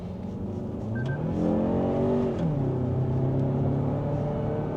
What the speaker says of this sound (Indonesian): sekarang kita mau tes untuk mesinnya nih dengan mesin 2700 cc 4 silinder, itu tenaganya itu gimana?